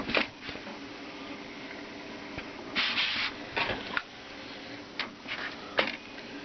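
An analog plotter driven by a Tektronix 2232 oscilloscope draws a graticule, giving soft hissing pen strokes and brief mechanical scratches that come in irregular bursts over a faint steady background.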